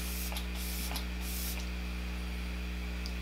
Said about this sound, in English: I'm using the Kat Von D Lock It setting spray.